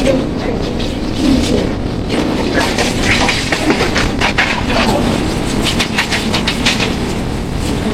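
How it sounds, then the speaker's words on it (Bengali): Passenger train pulling out of Sealdah station's south section, a loud continuous rumble with rhythmic clickety-clack of wheels over rail joints, close and steady throughout. "এই সাউথ সেকশন থেকে আমাদের ট্রেন ছেড়ে দিল শিয়ালদা থেকে"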